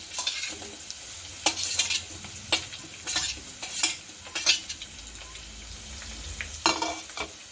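Tomato being stirred into sautéed onions in a pan for Kathiyawadi urad dal: a steady low sizzle of frying runs underneath while a spoon scrapes and knocks against the pan in repeated close strokes.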